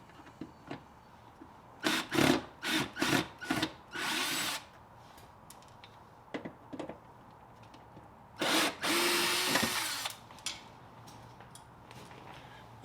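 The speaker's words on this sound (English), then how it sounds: "to speed this up, I'm gonna go use my drill" A power drill backs screws out of a Kia Optima fender with the car jacked up and the wheel off, sounding as a run of short whirring bursts, then a longer sustained whine and a few faint clicks, close and alone.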